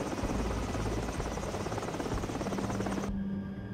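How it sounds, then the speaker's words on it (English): A helicopter's steady rotor and engine drone holds loud and continuous throughout, with a low pulsing thrum that cuts off sharply near the end. "Land the chopper."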